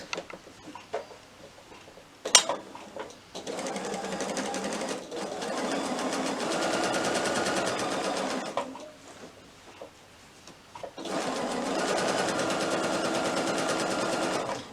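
A sewing machine stitches the seam of a small batik wallet in two long steady whirring runs, close and loud, separated by quiet handling pauses.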